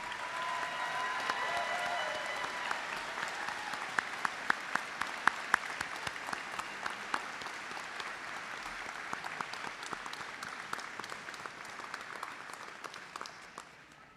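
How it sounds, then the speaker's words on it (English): Sustained audience applause at a Camosun business convocation ceremony, steady dense clapping from a large crowd that holds throughout and tapers slightly at the end. "Please, a great warm hand of applause for our faculty and your supporters."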